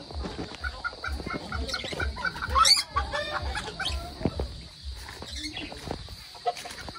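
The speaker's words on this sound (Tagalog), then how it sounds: "Ang ganda ng manok niya." A chicken clucks repeatedly in steady bursts at close range, with a sharper squawk partway through and a constant high insect-like hum behind it.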